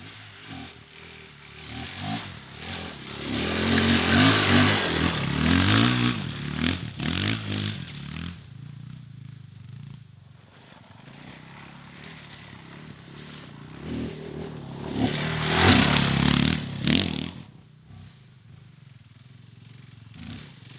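An Italian-made Fantic 500 motorcycle rides off-road through mud with its engine surging in two long loud bursts, a quieter lull between them. The rough revving sounds moderately close, with clattering mixed in and no voices.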